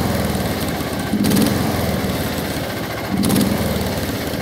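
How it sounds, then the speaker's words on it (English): A John Deere JD180 lawn tractor engine runs steadily up close, a loud buzzing throb that swells twice briefly as the throttle rises, with no talking over it. "The old JD180 gonna take it out for a spin."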